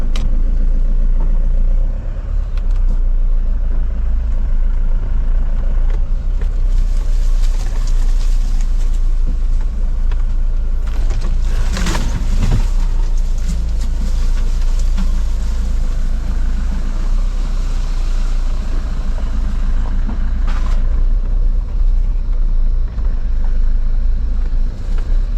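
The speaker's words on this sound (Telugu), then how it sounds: "పట్టాలు అవన్నీ కట్టేసా, బండికి స్టార్ట్ చేసా అండ్ ఇంకా బయలుదేరుతున్నా" Mahindra Bolero SUV with a 2.0 engine running on the road at dawn, a loud continuous low rumble with wind and road noise that swells briefly midway, with no talk.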